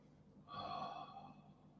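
A single deep breath drawn in and released during a Pilates side stretch, soft and close, with no other sound around it.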